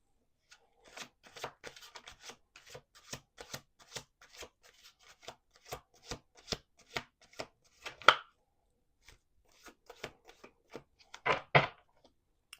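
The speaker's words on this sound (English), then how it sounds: "let's do two more shuffles." Rapid crisp riffle-and-tap bursts of tarot cards being shuffled, repeated many times at close range with brief pauses, two louder flurries standing out.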